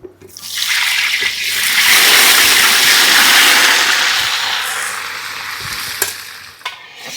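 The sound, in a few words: potatoes frying in hot oil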